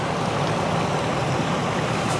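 Loud continuous rushing of a swollen river in Mongolia after heavy rain, a dense even roar of churning water heard close and unbroken.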